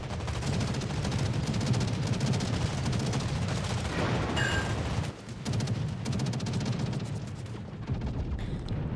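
A warship in a naval video game fires its anti-aircraft guns in a dense, continuous stream of rapid bangs and booms, loud and steady for several seconds with no voices over it.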